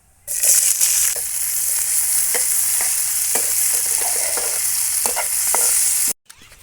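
Chopped onion, green chili and cumin seeds sizzle in hot oil, a steady loud hiss with intermittent spatula scrapes and pops, close by, cutting off abruptly.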